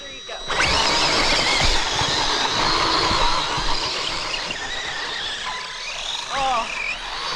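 A Team Associated Rival MT10 RC monster truck runs on a snowy backyard track, its electric motor whining steadily with rising and falling pitch near the listener, while people talk over it.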